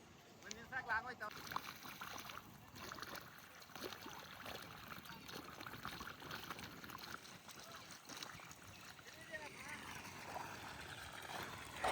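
Water running steadily from a hose or pipe to irrigate newly planted coconut and fruit saplings on a farm, a continuous trickling flow with speech over it throughout.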